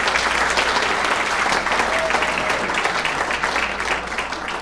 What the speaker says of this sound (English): if we could give them a round of applause as well